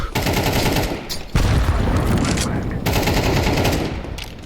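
Rapid automatic gunfire in Counter-Strike 2 rattles in loud continuous bursts with brief pauses between them.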